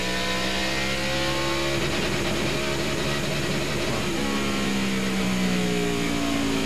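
A NASCAR stock car with a dying battery runs down the straightaway in a 2000 Monte Carlo 400 race, its loud engine droning and shifting pitch as it passes close by.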